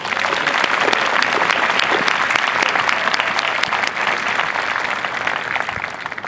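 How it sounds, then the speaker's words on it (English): Steady, loud applause from a large audience at an Air Force basic training parade, sustained clapping filling the whole stretch with no break. "please give them a healthy round of applause"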